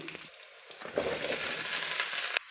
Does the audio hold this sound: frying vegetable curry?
yes